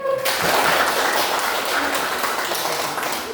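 Children in a classroom clap together in a steady burst of applause that fills the whole clip, close and fairly loud, with a teacher's voice briefly audible at the start.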